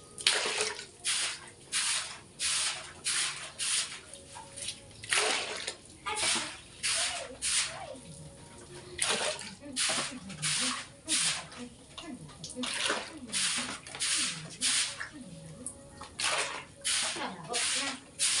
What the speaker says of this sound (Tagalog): Baha dito sa kwarto.